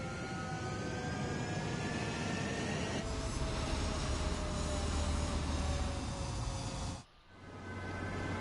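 Fighter jets in Ace Combat roll down a runway for takeoff, a loud steady engine roar with rising whine tones, dipping briefly near the end before the rumble returns.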